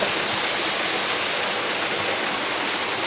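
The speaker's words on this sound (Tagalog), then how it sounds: "Tapos, sinaraduan para yung tubig na nanggagaling sa bukal." Spring water gushes steadily from a large pipe at an eco camp in Indang, Cavite, making a loud, continuous broadband rush like a small waterfall, close and unbroken with no voices.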